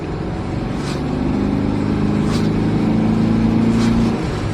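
A 1969 VW Fastback's engine drones steadily while driving, its tone rising as the car accelerates, then easing off toward the end, heard from inside the car.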